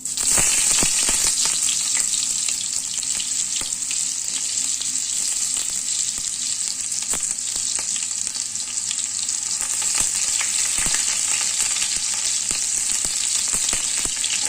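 Whole cumin seeds and onion fry in hot oil with a loud, close, continuous sizzle, broken by occasional sharp clicks of stirring, and no talking.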